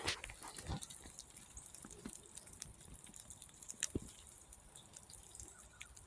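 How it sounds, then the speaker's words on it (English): Scattered drips of melting snow fall from trees at irregular intervals in a quiet winter outdoor setting, faint and close by, with soft ambient hiss between them. "You hear it dripping?"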